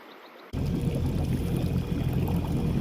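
A motorboat cruising on calm Stony Lake in the early morning starts up abruptly after a short quiet moment, then runs as a loud, continuous engine rumble mixed with rushing water.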